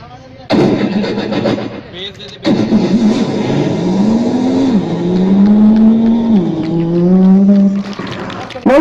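A man imitates a car engine with his voice: a sputtering start, then a long, rising and falling revving drone with pitch sweeps, loud and close, cutting off briefly before a final burst.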